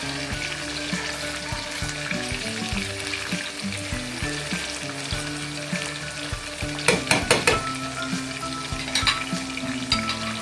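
Fish pieces fry in hot oil in a pan with a steady, close sizzle and crackle, punctuated near the end by a few louder spitting bursts as the pieces are turned or stirred.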